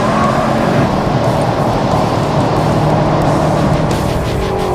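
A Subaru STI runs a fast lap on a race track, its engine droning loudly and steadily at close range from start to finish with a constant roar and no breaks.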